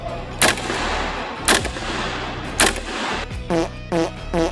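A GHK M4A1 RIS V2 gas blowback airsoft rifle fires 0.2 gram BBs on a range in about six sharp cracks with mechanical clacks, spaced roughly a second apart, close and loud over steady background noise.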